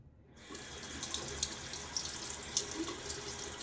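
Tap water runs steadily into a sink after a brief silent start, rinsing the edges of a shaving soap container, with a few small splashes and spatters over a quiet, close, continuous flow.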